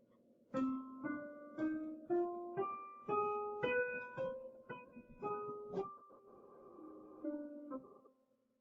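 A melodic instrument plays a harmonic minor scale rising then falling, one clear sustained note at a time at a steady, moderate pace, with no voices.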